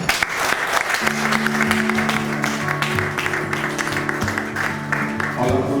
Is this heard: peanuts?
no